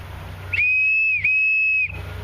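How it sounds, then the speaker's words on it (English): Two sustained, shrill blasts from a whistle built into the top of a thumb-stick, each held about a second with a brief break between, loud and close with no talk. "Also incorporate a whistle in the top. I'll blow it for you now."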